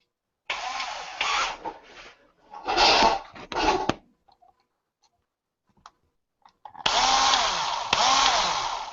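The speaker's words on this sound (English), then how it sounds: "I'm going to take my drill and I'm going to get into this a little quicker" A power drill whirs in several bursts while drilling into a hobby model, starting and stopping with brief quiet gaps, loud and close.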